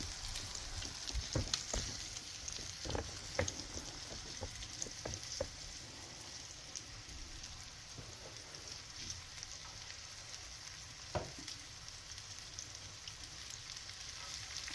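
Morel mushrooms frying in a pan give a soft, steady crackling sizzle with scattered sharper pops and spits, quiet and close throughout with no voices.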